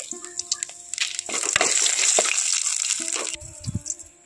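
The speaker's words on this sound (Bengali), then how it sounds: "এখন আমি কড়াইতে আবারও তেল দিয়ে দিচ্ছি, দিয়ে দিচ্ছি শুকনো লঙ্কা, কালো জিরে দিয়ে দিচ্ছি।" Dry red chillies and black cumin seeds hitting hot oil in a kadai, a sharp crackling sizzle that flares up, holds for a couple of seconds, then settles into lighter spitting with a few clinks.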